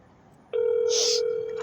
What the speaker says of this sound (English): Probably just gonna let the phone ring for a long time.